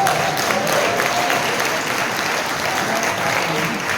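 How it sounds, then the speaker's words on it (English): Sustained audience applause from a seated crowd at a sports panel event, dense steady clapping filling the room at full volume with no break. "Another round of applause."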